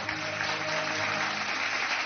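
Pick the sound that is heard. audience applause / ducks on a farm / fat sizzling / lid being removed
audience applause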